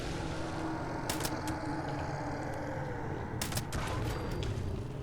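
Game gunfire in Fallout 76: two short bursts of shots, one near the start and another around the middle, cracking over a steady low ambient rumble.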